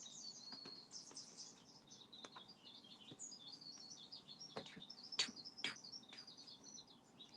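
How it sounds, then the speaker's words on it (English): Birdsong from a bird video plays on a television indoors, a faint, steady stream of chirps and tweets with a few sharper calls near the middle. "I have Bird TV on the big TV in here"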